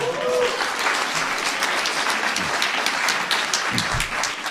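Audience applause at a Korean talk show taping, a dense sustained burst of clapping from a crowd filling the room, with a few voices faintly mixed in.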